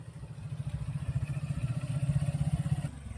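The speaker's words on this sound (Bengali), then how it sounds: "এবার থ্রটল করি, গ্র্যাজুয়ালি ক্লাচ ছাড়ি।" A training motorcycle throttling up as the clutch is gradually released gives a close, pulsing low engine putter that swells slightly and then cuts off near the end.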